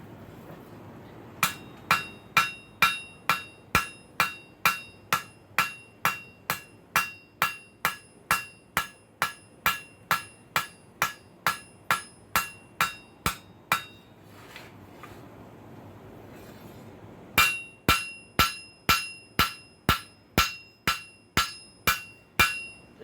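A prize hammer planishing metal, about thirty bright ringing strikes in a quick steady rhythm, close and loud, with a short pause before a second run of blows.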